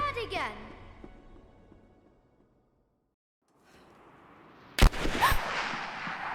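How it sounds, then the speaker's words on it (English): A gunshot in the Tomb Raider video game cracks out sharply and loudly after a stretch of near silence, followed by a rush of sound; a fading musical sting is heard earlier. "Sound of a gunshot."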